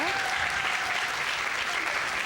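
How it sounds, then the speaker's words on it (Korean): An audience in the stands at a youth bowling tournament applauds steadily, a continuous wash of clapping under a faint voice, sustained and even throughout. "지금 뭐 관중석에서는 계속 박수가 나오죠"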